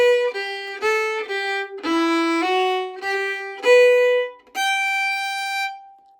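A solo fiddle plays a short melodic phrase of the tune Sally Johnson, with bowed notes, some quick and some held, ending on a long sustained high note.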